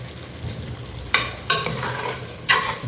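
Mutton tossed with curry powder and turmeric in a pan, giving a low sizzle and three distinct scraping stirs of a spoon, close and loud.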